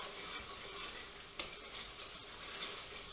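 Onions cooking down in a pan of BIR-style base gravy for chicken pathia, giving a steady, close sizzling hiss with one short clank of a utensil partway through.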